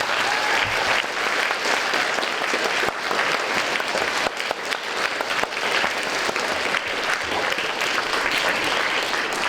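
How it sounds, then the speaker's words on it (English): Sustained audience applause for veterans at a school Veterans Day assembly, a broad, continuous crowd clapping in a large room, holding steady throughout. "let's give our veterans a round of applause"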